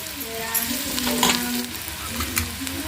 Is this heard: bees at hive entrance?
no